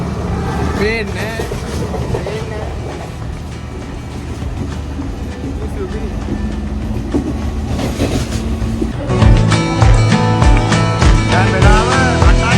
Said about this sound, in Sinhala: ඕ ඒ මාරම ස්පීඩ් එකේ කෝච්චිය